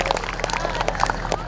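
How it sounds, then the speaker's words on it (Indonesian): Applause for a speaker at a school anniversary celebration at MAN 2 Kota Kediri, a dense, steady patter of many hands clapping in a hall, with crowd murmur mixed in throughout. "Tepuk tangan untuk beliau, Pak Zam."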